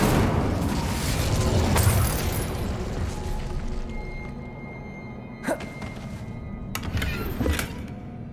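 Fire spell cast in Hogwarts Legacy, a dense, rumbling whoosh of flame with booming bursts, followed by several sharp cracks and thuds as the roar slowly fades.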